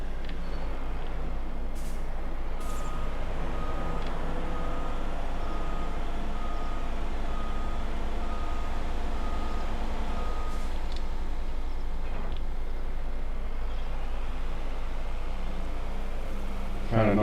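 A lorry backing up in Farming Simulator 25, its reversing alarm beeping repeatedly and steadily over a constant low engine drone, with a short hiss near the end.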